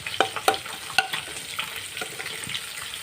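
Water spinach (kolmi shak) sizzles with onion frying in a pan, a steady crackling hiss with several sharp pops and stirring clinks near the start.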